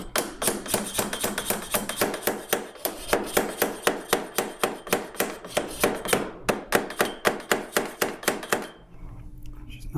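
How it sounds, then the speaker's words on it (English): A metal pin is hammered back into the handle lock of an Ego electric lawn mower, with about thirty rapid, sharp, evenly spaced close-up blows that stop near the end. "I should be able to just hammer this pin back up."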